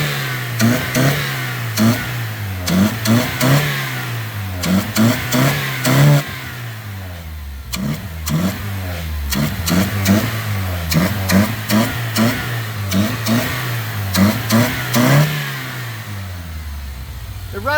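A fully rebuilt car engine with about 50 miles on it revs repeatedly, loud and close, in quick throttle blips that rise and fall over a rough idle, with brief pauses between bursts.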